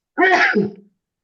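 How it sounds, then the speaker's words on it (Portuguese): One sharp, loud sneeze bursts out close to the microphone and then cuts off into silence. "Ela espirrou, então?"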